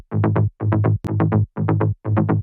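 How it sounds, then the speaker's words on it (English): Mid bass layer of sawtooth synth waves for a melodic techno track, five short repeated bursts of buzzing, rhythmically pulsing bass notes separated by brief gaps. "that's the mid bass layer. It sounds like this."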